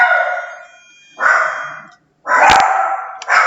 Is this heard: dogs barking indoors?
yes